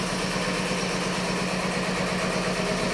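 Twin engines of a large yacht run steadily in a constant, loud, close-up drone with a low, even hum and no talk.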